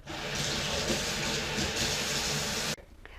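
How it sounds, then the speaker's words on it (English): Water poured into the mop water tank of a robot vacuum, a steady, loud rushing stream close by that runs for nearly three seconds, then stops abruptly into quiet room noise. "We put water in the water tank"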